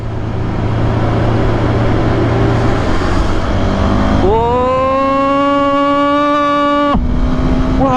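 KTM Adventure 390 motorcycle accelerating on a road: steady wind roar, then a loud rising engine whine climbing in pitch for a few seconds before cutting off at a gear change, heard up close from the rider's position.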